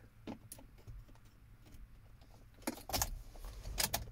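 Car key handled at the ignition of a black 2014 Chevrolet Equinox LTZ: soft metallic jingles and clicks, faint at first, then louder bursts of jangling near the end, close by with no voices.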